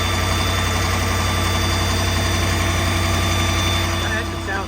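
A 2012 Ford F-550 4x4 service truck with an IMT 7500 mechanics body idles close by, a steady, loud diesel-type drone with an even low rumble and a faint rattle, easing slightly at the end.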